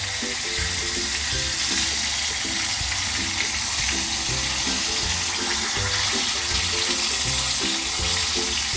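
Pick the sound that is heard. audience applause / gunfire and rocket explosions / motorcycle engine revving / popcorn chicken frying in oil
popcorn chicken frying in oil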